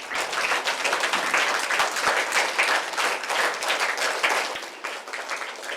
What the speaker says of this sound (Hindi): जोरदार तालियां बच्ची के लिए।